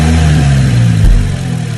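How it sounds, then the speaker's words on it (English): A car engine is revved up and drops back, heard loud and close from the intake side in the engine bay, with a rising then falling drone and a sharp drop near the end. "This isn't an exhaust, this is an intake clip."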